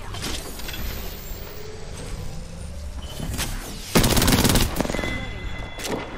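Gunfire in the video game Apex Legends crackles through a busy battle mix, with scattered shots and then a dense burst of rapid automatic fire near the middle before fading into further sporadic shots.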